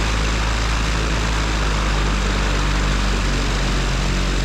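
Zenith light aircraft engine and propeller running loud and steady as power comes up for a normal takeoff, a dense continuous roar close by with no talk over it.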